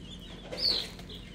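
Newly hatched chicks in a homemade incubator give a brief, soft chirp or two rising over a faint background hum, close by and with no one speaking.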